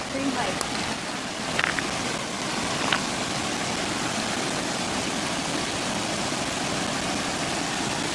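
Steady broadband rush of stream water flowing in a survival video game, continuous and fairly loud throughout, with a few faint brief clicks near the start.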